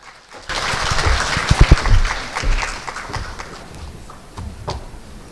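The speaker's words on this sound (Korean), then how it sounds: "다시 한번 뜨거운 박수로 맞아주시기 바랍니다." Applause at a Korean privacy and information security fair, greeting the next presenter: clapping starts abruptly, swells to a strong burst with a few heavy close claps, then thins out into scattered claps.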